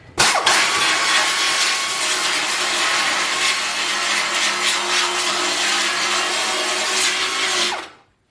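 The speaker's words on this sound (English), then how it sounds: "needle sander, because it's going to be able to reach in right into the corner" A needle sander hammers away at the steel front fender of a Mercedes W108 during a patch repair, a loud steady buzzing rattle that runs for about eight seconds and then cuts off.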